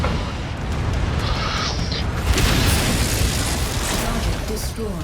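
Mech explosions in the MechWarrior Online video game: sustained loud booming blasts and crashing debris rumble through the whole stretch, with a steady roar swelling near the middle and a voice talking faintly underneath.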